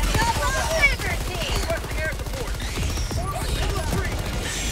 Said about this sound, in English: That's the fucking chain gun.